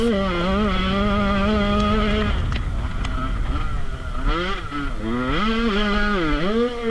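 Dirt bike engine at a GNCC youth off-road race in soft dirt, loud and close with a steady droning note that dips, then rises and falls through repeated revs.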